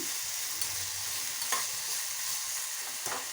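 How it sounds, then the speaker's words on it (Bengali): Vegetables fry in a little oil in a covered pan on a gas stove, a steady, even sizzle broken by a few brief stirring scrapes. "এরকম চাপা দিয়ে অল্প তেল দিয়ে ভেজে নিলে তেলটা খুব কম খাওয়া হয়"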